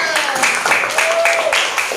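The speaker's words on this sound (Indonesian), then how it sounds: "Oke, tepuk tangan dulu." Schoolchildren in a classroom clap loudly and continuously, a thick wash of overlapping claps mixed with excited young voices.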